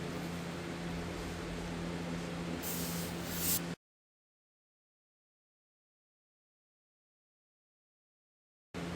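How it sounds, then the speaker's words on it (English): Throttle body cleaner is sprayed onto a Volvo throttle body in one short hissing burst lasting about a second, over a steady background hum that then cuts to silence. "I got me some throttle body cleaner around here somewhere."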